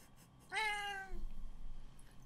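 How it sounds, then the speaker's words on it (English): A pet cat gives a single clear, drawn-out meow, close but fairly soft, in a quiet room with a low rumble afterward. "That's my cat."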